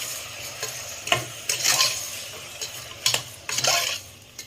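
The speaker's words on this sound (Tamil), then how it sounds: "கொஞ்சமாக மஞ்சள் பொடி, கொஞ்சமாக உப்பு, தேவையான அளவு உப்பு போட்டு நம்ம நல்லா மிக்ஸ் பண்ணிக்கலாம்." Chicken pieces being mixed with turmeric powder and salt in a cooking pan, with several close, scraping stirring strokes over a faint background sizzle and no talking.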